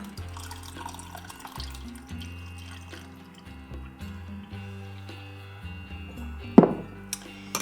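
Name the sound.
hot water poured into a mug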